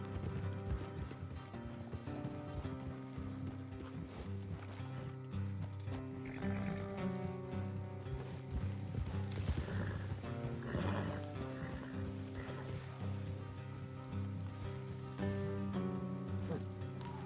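Horses' hooves clip-clop in a steady trot beneath continuous loud music in the video game Red Dead Redemption 2, with an occasional whinny rising through the mix.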